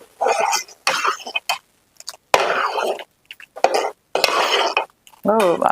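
A spoon scrapes and clinks against a pot while soaked payasam is stirred, in several short bursts separated by pauses, with a cough or throat-clearing mixed in near the end.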